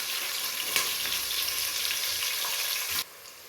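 Onions frying in hot oil for tomato rice bath give a continuous close sizzle with small pops, then the sizzle drops abruptly to a quieter hiss near the end, no talking.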